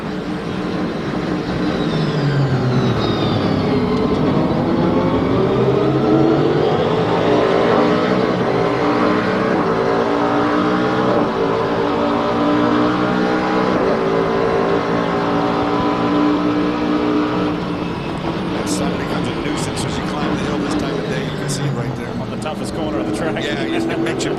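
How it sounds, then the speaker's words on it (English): A BMW-powered Riley Grand-Am sports prototype at Infineon Raceway, its engine howling loud and near as it rises and falls through the gears in a sustained, ever-shifting roar. "BMW powered Riley and Pruitt trying to find a way through"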